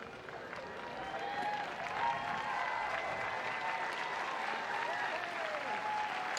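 Crowd applause and cheering in the stands at a 2019 UCF vs Florida NCAA softball game, steady and somewhat distant, with voices mixed in.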